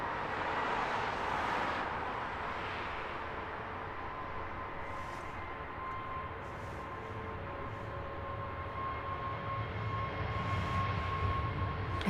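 An Airbus A320 airliner departs Heathrow bound for Gibraltar, its engine roar steady and moderately distant, building slightly toward the end.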